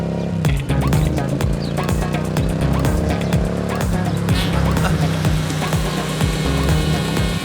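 A car driving along with a continuous engine rumble and road noise, punctuated by repeated sharp clicks and knocks, holding steady for several seconds at close range.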